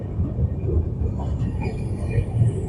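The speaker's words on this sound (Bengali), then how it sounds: "নবদ্বীপ ধামে ছাড়লো আমাদের ট্রেন, নবদ্বীপ ধাম রেলওয়ে স্টেশন।" The 13189 Kolkata to Balurghat Express pulls out of Nabadwip Dham railway station, its low rolling rumble heard from aboard the train, steady and continuous.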